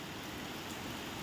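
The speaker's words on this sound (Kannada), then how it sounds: "ಇಷ್ಟು ಮಳೆ ಅಂತ ಸಿಕ್ಕಾಪಟ್ಟೆ ಮಳೆ ಬರ್ತಾಯಿದೆ" Heavy rain pours steadily in Sarjapur, a dense continuous hiss with no pauses and no voices.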